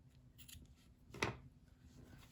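A pair of scissors snips crochet yarn ends once, a single quiet close cut in a hushed room.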